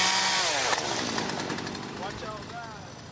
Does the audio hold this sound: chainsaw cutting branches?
yes